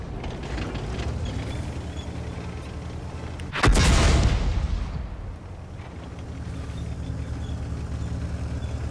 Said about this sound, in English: That sounded like artillery